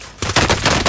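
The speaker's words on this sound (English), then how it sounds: "I'm getting shot." Rapid bursts of gunfire in Call of Duty: Modern Warfare, loud and close, starting after a brief quiet lead-in and repeating in quick irregular volleys.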